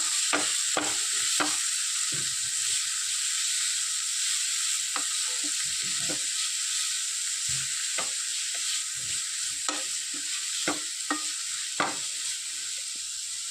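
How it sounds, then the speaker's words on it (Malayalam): Bitter gourd for a Kerala-style pavakka mutta thoran is stirred in a frying pan, with repeated scrapes and knocks of the spoon over a constant loud sizzle and no voices. "പാവയ്ക്കയും കൂടെ ചേർത്ത് നന്നായിട്ടൊന്ന് ഇളക്കി യോജിപ്പിക്കുക."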